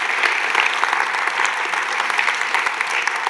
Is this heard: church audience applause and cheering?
yes